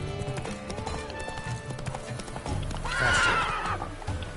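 Roach the horse whinnies in The Witcher 3, a rising, loud neigh heard over the clip-clop of hooves and a low background rumble.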